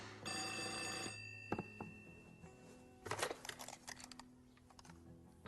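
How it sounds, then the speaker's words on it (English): A telephone bell rings in one short burst, followed by a few sharp clicks and a run of light clattering, like a receiver being handled. No one speaks. "Pick up the phone."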